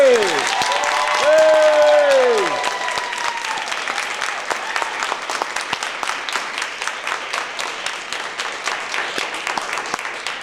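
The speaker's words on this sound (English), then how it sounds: "Those who believe no, please applaud." Audience at a televised Nashville town hall debate on Common Core applauds loudly, with whooping cheers and shouts at the start, then fades into scattered individual claps.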